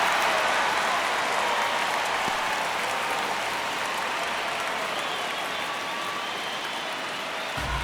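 A stadium crowd in the MLB The Show baseball video game keeps up steady, dense applause and cheering for the whole stretch, a broad even roar with no break.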